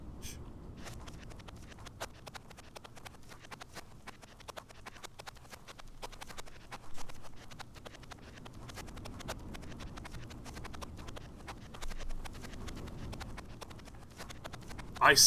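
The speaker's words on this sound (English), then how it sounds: "let me just listen to these footsteps real quick" Running footsteps of a player character in a railroad-building video game, a steady fast patter of light hollow clicks continuing throughout, fairly quiet and close, with no talk over them.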